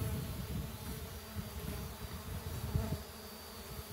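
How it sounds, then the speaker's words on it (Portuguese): Stingless bees swarming around a feeder, a continuous close buzzing drone of many insects with a steady low hum throughout and no talk. "E as abelhas não param de chegar aí"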